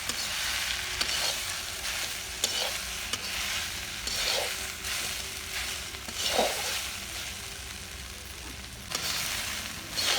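Greens and kuchai being stir-fried together in a pan: continuous close sizzling with repeated scraping, stirring strokes at an irregular rhythm, and no talking.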